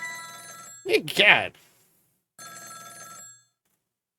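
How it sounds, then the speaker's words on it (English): A telephone rings in the Ghost Trick video game as a game sound, in two bursts separated by a short gap. A brief startled voice exclamation cuts in between the rings. "It's even more pathetic to be startled by the same phone twice."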